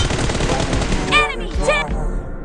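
Gunfire in the PUBG Mobile shooter game during a 1v1 team deathmatch room, heard as rapid, loud bursts of shots with brief sweeping effects and a short voice-like sound over the top.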